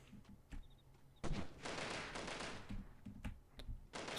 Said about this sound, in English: So where is the rest of this horde that keeps firing?